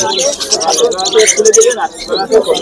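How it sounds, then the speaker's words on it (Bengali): Budgies at the Uluberia pet market chirp and twitter close by in quick, overlapping bursts, mixed with cooing from other birds. "আর এখানে প্রচুর পরিমাণে বদ্রি রয়েছে"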